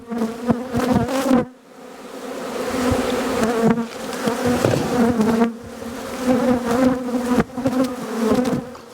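Bees swarm and drone around an open white hive in an Australian bee yard at season's end, a dense, steady buzz rising and falling in loudness with a few brief dips, close by and alone.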